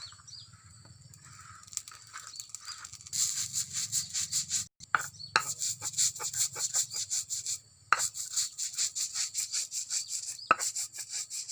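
Roasted grated coconut and coriander seeds being ground by hand for a Batak Mandailing eggplant dish, a steady scraping, rubbing rasp in repeated strokes that grow louder after the first few seconds, close and alone.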